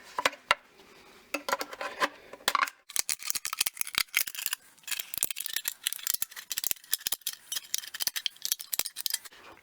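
Snipping through the metal top of a can, a rapid series of sharp crisp clicks and metallic rattles, close and fairly quiet, speeding into dense bursts after a slower start.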